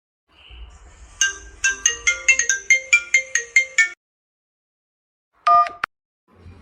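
A mobile phone rings with an incoming call, playing a bright melodic ringtone of about a dozen quick, loud notes, then falling silent before a short, tonal burst sounds again.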